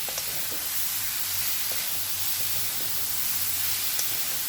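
Modak filling of chopped jaggery sautéing in a pan, a soft, steady sizzling hiss with faint occasional stirring clicks, quiet and continuous with no talk.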